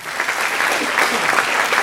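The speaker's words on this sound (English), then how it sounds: "So please wave and applaud James Andrews," An audience at the 2013 ROI Summit opening ceremony applauds in a dense, steady burst of clapping from many hands, continuous and fairly close throughout.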